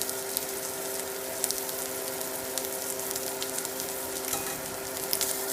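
A boneless ribeye steak fries in Kerrygold grass-fed Irish butter, giving a steady, dense sizzle with tiny pops throughout and no talking.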